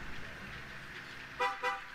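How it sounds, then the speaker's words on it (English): A car with a Viper 5906v remote start system gives two quick, short horn chirps close together against a faint background hum. "This is the remote start turning on."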